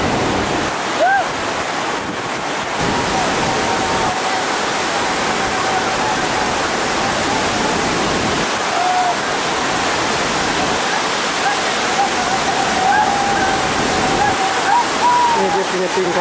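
A waterfall roars steadily at a survey site in Santosa village, Unurum Guay District, a dense unbroken rush of water filling the whole stretch, with faint whistling tones riding over it now and then.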